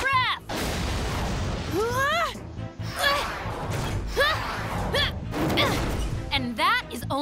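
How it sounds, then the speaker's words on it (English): A cartoon fire breath attack from an animated dinosaur superhero show bursts out in repeated loud, booming whooshes and blasts, with shrill animated voices crying out over them. "And now, fire breath!"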